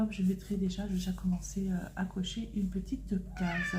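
A house cat meows a few times close by, short vocal calls mixed in with someone talking over it.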